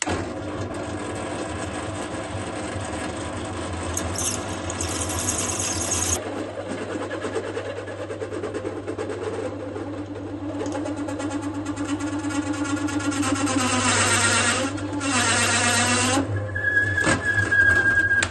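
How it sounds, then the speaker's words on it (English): A power drill whines and grinds into a truck's metal floor, pitch shifting as the bit bites and slows, with scraping rasps near the end. "Over there, drill 2 holes in it"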